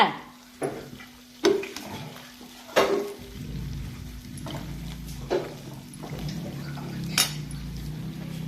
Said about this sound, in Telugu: రెండు స్పూన్లు కారం వేసాను కలుపుతున్నాను